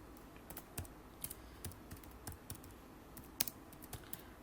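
Keyboard typing while entering mathematical notation into a Microsoft Word document: sparse, uneven keystroke clicks with short pauses between bursts, fairly quiet and close, over a low background hiss with no voices.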